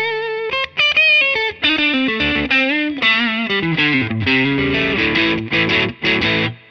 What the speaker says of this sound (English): Let's add a little distortion to that.